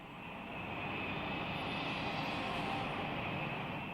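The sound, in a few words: Japanese warplanes flying toward the Philippines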